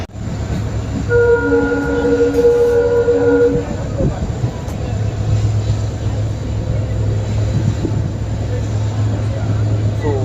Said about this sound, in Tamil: பரமக்குடி ஸ்டேஷன் வந்து ட்ரெயின் பார்த்தீங்கன்னா டிபார்ட் ஆகிடுச்சு